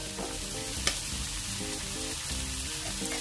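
Onion and tomato masala fries in a pan with a steady, soft sizzle, joined by a few light stirring clinks. The frying stays close and fairly quiet, with no voices.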